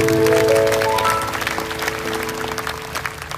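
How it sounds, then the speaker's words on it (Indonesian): A church congregation claps steadily with sustained music tones underneath, the applause gradually easing off. "Beri tepuk tangan untuk Tuhan Yesus"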